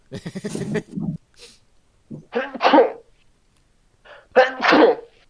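Two sharp sneezes burst out close by, a second apart, surrounded by a few people talking.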